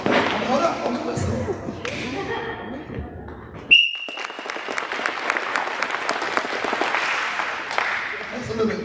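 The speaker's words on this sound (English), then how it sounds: "on the whistle, we're gonna do it together. 10 claps." A whistle blast cuts through crowd noise at a school assembly, then many hands clap together in a fast, steady rhythm, loud and close, with voices murmuring underneath.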